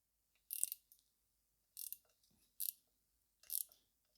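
A ratchet works loose T30 Torx bolts on a BMW N42/N46 Valvetronic engine, giving four sharp, close metallic clicking bursts separated by short pauses.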